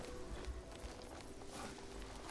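Horse hooves clip-clop steadily in the video game The Elder Scrolls IV: Oblivion, a brisk, even run of hoofbeats that continues throughout at moderate loudness.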